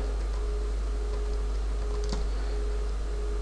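Typing on a computer keyboard while entering text in Photoshop, soft quiet key clicks over a steady low hum, no talk.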